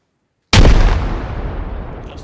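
Frag grenade exploding in the ARMA video game, a single sudden loud blast after silence with a long rumbling decay.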